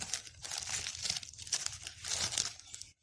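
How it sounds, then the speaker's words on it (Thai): A plastic bag being handled and crinkled up close, with continuous crackling and rustling in bursts that stop abruptly at the end, and no talking. "ถุงพลาสติกตัดออกครึ่งหนึ่งครับ"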